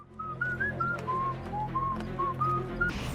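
Someone whistles a slow melody, note by note, over a low background hum, with soft clicks and bumps scattered throughout.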